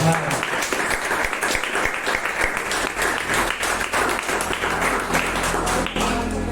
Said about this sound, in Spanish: Merece un fuerte aplauso, Señor